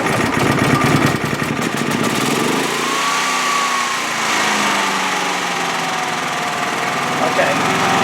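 A Predator 9500 generator running on a remote fuel tank hums at a steady engine drone. The tone shifts and settles into a smooth idle partway through, while a person talks over it.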